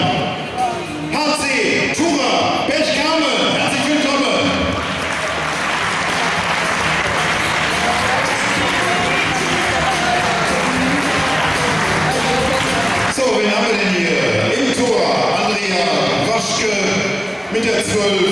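Crowd applause fills a sports hall as a women's handball team is welcomed, loud and sustained for most of the span, with an announcer's voice over it.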